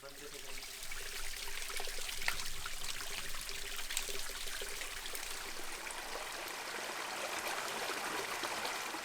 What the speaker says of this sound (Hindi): दिसंबर के महीने में कंटिन्यू पानी बह रहा है।